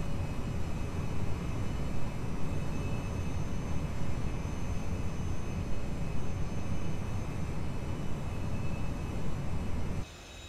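Jet engines of a FedEx Boeing 727 cargo plane idling in a flight simulator, a steady broadband rumble with a thin whine, even and continuous, dropping off abruptly near the end, with no voices.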